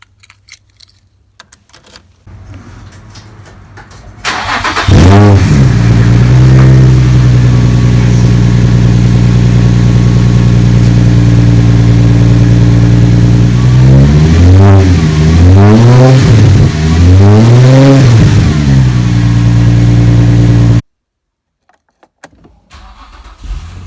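A Vaydor kit car's engine cranks and catches, then idles loudly with several rising revs before cutting off abruptly.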